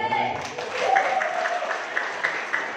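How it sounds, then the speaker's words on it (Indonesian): An audience applauds for a woman named Bu Arma during a network building training session; clapping runs steadily for nearly three seconds, mixed with voices and a few sharper claps standing out. "Aplaus buat Bu Arma."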